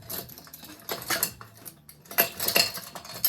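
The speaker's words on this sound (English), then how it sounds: "I know my measuring teaspoons are in here somewhere." Metal cutlery clattering and jangling in a kitchen drawer while someone rummages for measuring teaspoons, bursts of clinks and scrapes coming in uneven clusters close by, with no talking.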